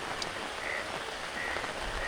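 Rain pours steadily on a rooftop garden while a few faint frog croaks come through the wash of falling water.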